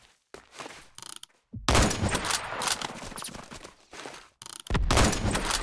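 Bursts of rapid gunfire from a Roblox shooter game, loud close volleys separated by short silences, broken by a few mechanical clicks.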